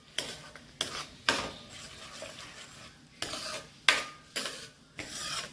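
Chhole chana masala with Kashmiri chilli is stirred in a pan, a spoon scraping and rasping in several distinct strokes with a soft sizzle between them, close and clear with no talking.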